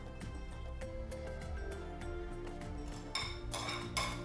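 Potato and fish kebab mixture worked together in a bowl, with soft clinks and taps of a utensil against the bowl repeating closely, a couple of sharper knocks near the end.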